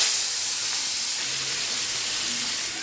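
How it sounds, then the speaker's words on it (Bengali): Fish frying in a pan for a Bengali fish bhuna gives a steady, close sizzling hiss that runs unbroken throughout, with no talking. "প্রথমে মাছটা ভেজে নিব।"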